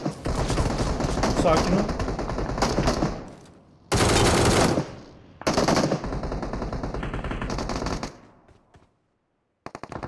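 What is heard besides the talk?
gunfire in PUBG Mobile video game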